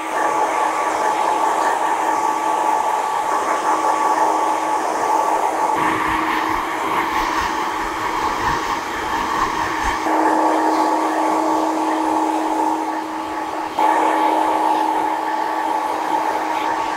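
A hair dryer blowing on long red hair during a haircut, a steady loud whooshing drone for about seventeen seconds that shifts in pitch and force as it is moved around the head.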